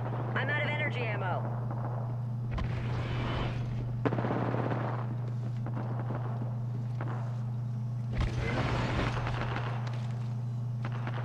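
Apex Legends gunfire crackles in repeated bursts through a busy firefight, loud and close, with a voice talking over parts of it.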